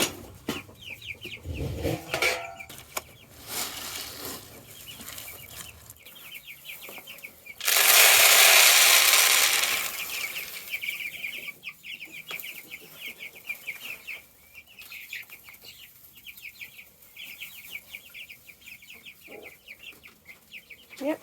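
Cornish cross meat chickens cluck and chirp steadily in a homestead coop, a dense flock calling close by, with a burst of wing flapping and rustling partway through.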